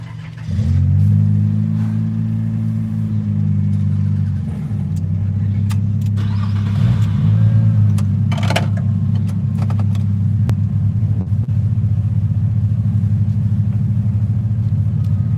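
A car with a plastic ignition idles loudly and steadily up close, its low engine hum rising into revs and settling back through the stretch, with no one talking.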